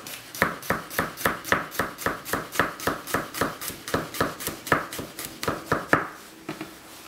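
A knife cuts garlic into matchsticks on a cutting board in a quick, steady run of about twenty close crisp chops, slowing and ending with a few lighter taps.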